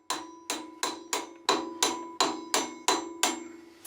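Flywheel bolts on a Toyota MR2 engine being torqued down with a wrench, ten sharp metallic clicks at a steady half-second rhythm, close and loud, each ringing briefly before the next.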